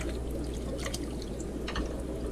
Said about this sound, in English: we're gonna rinse in the fish water